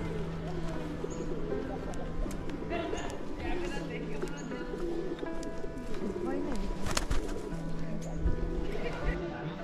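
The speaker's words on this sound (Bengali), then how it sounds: "ফাঁকা কিন্তু কী সুন্দর পায়রাগুলো, আরও পায়রা ছিল" Pigeons coo softly at a hillside temple in Darjeeling on a quiet morning, their low murmuring calls steady beneath continuous nearby talk and faint outdoor background.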